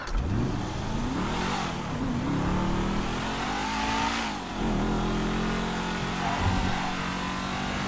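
A car in GTA V driving and accelerating, mid-pitched engine revving up through rising gear sweeps, easing off briefly and climbing again, heard steadily and fairly close.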